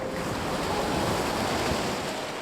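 Baltic Sea waves wash onto a sandy beach on the Curonian Spit near Korolevsky Bor, making a steady, close rushing surf mixed with wind buffeting the microphone.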